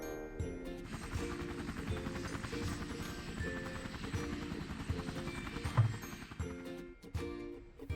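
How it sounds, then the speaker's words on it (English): Cartoon helicopter beside a cartoon plane, a steady whirring rotor drone with layered musical tones running continuously throughout, fairly loud and unbroken until a short dip near the end. "there's Penny the plane and Hector the helicopter"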